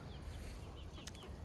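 Chickens cluck faintly in a garden, with a few short bird calls over a low, steady outdoor rumble.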